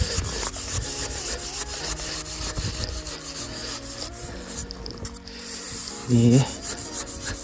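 A bread knife saws through a packed snow block while an igloo is built in the Arctic on Svalbard, giving a steady close rasping scrape of repeated strokes, with a brief louder thump near the end.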